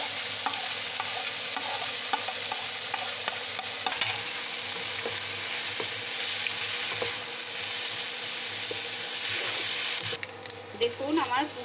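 Grated boiled eggs fry with soy sauce as egg momo filling in a pan, a dense continuous sizzle with stirring scrapes throughout, fading near the end.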